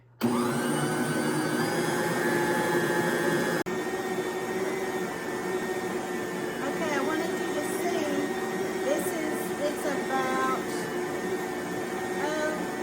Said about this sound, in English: in my Bosch mixer I'm going to knead it on a number 2